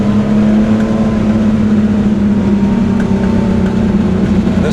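Air-cooled 3.2-litre engine of a 1985 Porsche 911 pulling steadily while driving, a loud, close, continuous buzzing drone with a rasp, heard from inside the car without talk.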